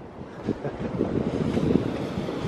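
Wind buffets the microphone over the wash of Atlantic Ocean surf breaking along the shore, a continuous rushing roar that swells gently in the middle.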